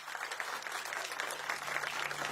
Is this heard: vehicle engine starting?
no